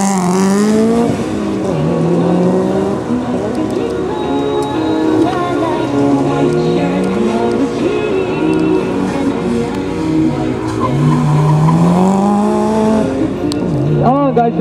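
Subaru GDB race car in a G6 gymkhana event at Kiyosato taking a large S-curve from the outside, engine revving up and down in repeated sweeping pitches, loud and close, with a commentator speaking over it.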